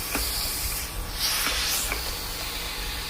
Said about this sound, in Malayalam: കുക്കറിൽ വെള്ളം തിളയ്ക്കാൻ വെച്ചിട്ടുണ്ട് ഇപ്പം നന്നായിട്ട് ആവി വന്നിട്ടുണ്ട്